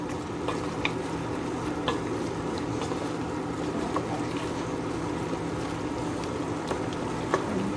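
Pork adobo with vinegar is mixed in a pot: a soft, steady sizzling simmer with a handful of sharp utensil clinks against the pot scattered through it.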